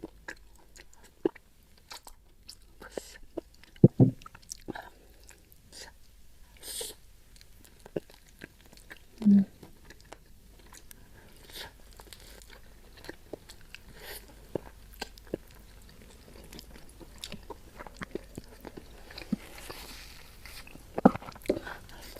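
Opor ayam, chicken cooked in coconut milk, is chewed up close in a mukbang, with soft wet mastication and occasional sharper bites and crunches spread over a quiet background.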